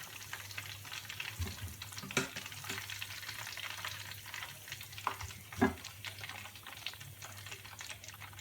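Chicken frying in a pan for a Korean style dish, a steady close sizzle of hot oil with occasional stirring scrapes and pops throughout.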